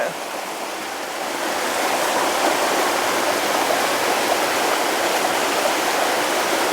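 A forest stream at Bisile Ghat rushes in a dense, steady flow of water, close and loud and unbroken throughout.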